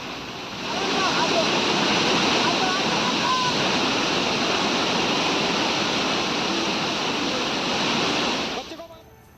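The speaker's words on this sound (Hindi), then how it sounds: "जबकि जगह जगह उफनते नाले बह रहे हैं।" Swollen streams after heavy mountain rain in Uttarakhand make a loud, steady, broad rush of water that fills the scene without break, then fades out at the very end.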